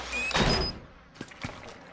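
In the horror game Outlast, a door bangs shut with a heavy thud early on, followed by a couple of fainter knocks and creaks as the scene settles, with no talk over it.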